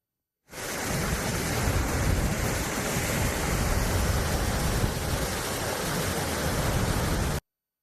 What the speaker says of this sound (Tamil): பெரியபாணி பிரதான அருவி சினி அருவி உள்ளிட்ட அருவிகளில் தண்ணீர் ஆர்ப்பரித்து செல்கிறது